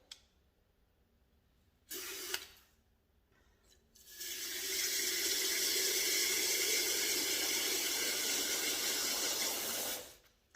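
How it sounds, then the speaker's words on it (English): Water running from a hose into a Lot-O tumbler barrel, a brief gush followed by a steady loud hissing fill lasting several seconds before stopping, with no talking. "we'll get some water in our lotto barrel"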